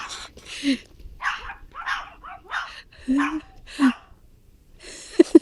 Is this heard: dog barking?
yes